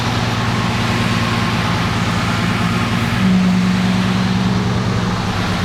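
The 1969 Mercedes engine runs with a steady, loud low drone throughout, as the car is being turned, and a faint higher tonal whine rises partway through over the constant roar.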